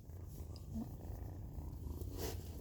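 Pet cat named Shadow, a young kitten about three weeks old, purring in a steady low rumble very close, continuous and soft with no voices over it.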